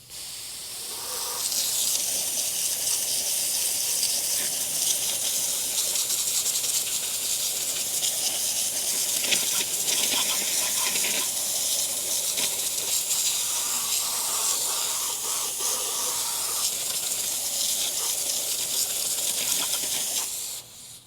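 A steady, loud hiss of water spray rinses a truck wheel rim at close range, running continuously for about twenty seconds with slight changes in tone as the stream moves, and no talking.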